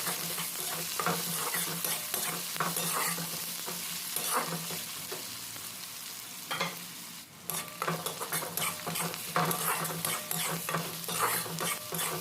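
Chopped onions sizzle in a pan while a utensil scrapes and stirs them in steady, repeated strokes, close and continuous with no talking.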